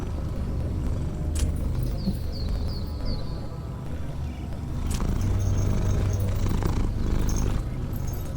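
Cats purring in Final Fantasy XIV, a steady low rumbling purr lasting throughout, fairly close, with no talking over it.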